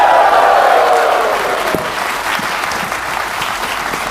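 An audience at a live Magic Con Atlanta draft show claps and cheers, a dense burst of applause that starts loud and slowly thins out over a few seconds.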